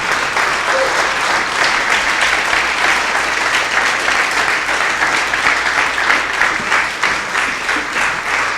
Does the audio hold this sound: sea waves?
no